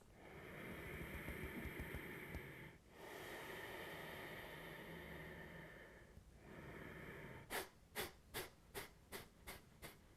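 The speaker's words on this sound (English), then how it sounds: "you take a full inhale and exhale and then a half an inhale, and then you start your belly pumps" Yoga belly-pump breathing exercise, a long loud rushing breath followed by a steady series of about seven short, sharp, evenly spaced forced exhales, close and with no talk.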